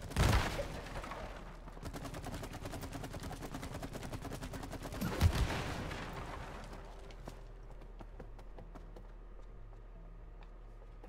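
Gunshots in the co-op game It Takes Two, a rapid stream of clicking, popping shots with two heavier bursts, fading into sparse isolated pops over a low steady hum.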